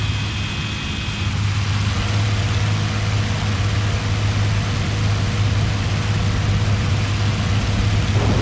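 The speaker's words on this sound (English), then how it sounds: "Notice how the engine sounds get real loud when you throttle back." Hurricane fighter's engine in the IL-2 flight sim, throttled back: a steady, loud low-pitched drone that holds throughout, with no voices.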